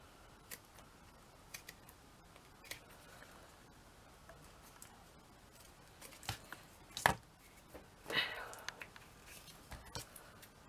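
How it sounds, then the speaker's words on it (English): Small scissors snipping as they trim a miniature garden basket, sparse quiet clicks and a few louder close cuts against a faint background. "And then I just spend time trimming it."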